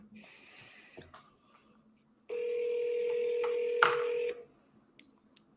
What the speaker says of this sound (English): If I can get somebody on the phone.